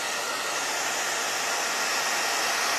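A hair dryer blows over thick textured paint on an art piece, a steady loud whooshing roar held close and unbroken throughout.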